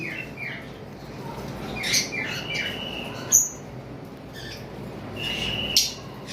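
Pet birds at a bird farm give a few short, sharp chirps and squawks, spaced a couple of seconds apart over a low, steady background hum. No one speaks.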